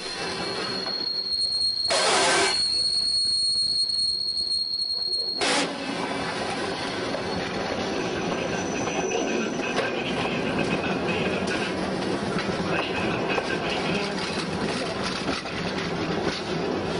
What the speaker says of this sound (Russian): На сортировочной горке происходит распуск состава.